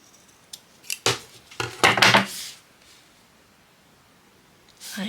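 Scissors snip along the edge of a paper page insert in a few quick, close cutting strokes, clustered in a short burst and followed by quiet.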